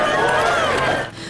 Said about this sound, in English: The crowd is defiant as night came, facing off against a wall of arms.